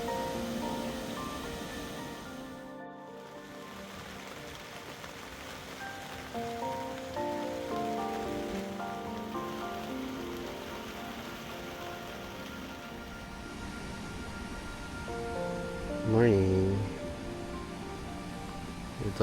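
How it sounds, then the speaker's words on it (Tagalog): Steady light rain falls continuously on a campsite in Batangas, a soft even patter holding throughout, with a brief voice and a short knock near the end. "Hindi naman malakas ang ulan. Pero tuloy-tuloy siya."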